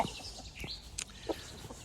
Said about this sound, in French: Donc dans le parquet, il y a 6 poules, un coq.